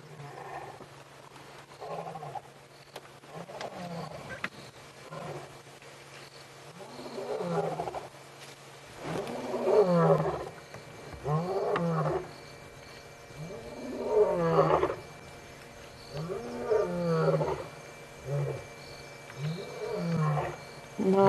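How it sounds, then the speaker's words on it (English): Male lions roaring at night on a safari drive, a series of deep, rhythmic roaring calls building and repeating over a low steady rumble, fairly distant and growing louder across the clip. "If you listen very carefully, you can hear the lions roaring."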